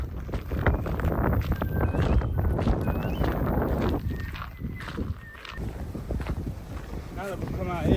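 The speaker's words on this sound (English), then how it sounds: "it's fucking windy as hell" Strong wind buffeting a microphone outdoors at a sunset barbecue spot, heavy gusty rumble throughout that eases slightly midway, with someone talking over it.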